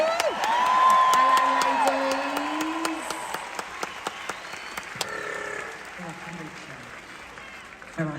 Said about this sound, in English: please give a massive, massive round of applause to Lauren, Amanda and Katie